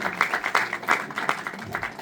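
An audience in a cinema applauding after a film preview screening, with dense, fairly close clapping throughout.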